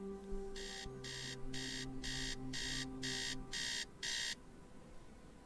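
A video game alarm clock beeps in eight evenly spaced electronic bursts over a low droning musical background, with no one speaking.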